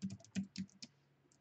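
Close, quiet typing on a computer keyboard while using Figma, a short burst of several uneven keystrokes followed by near silence.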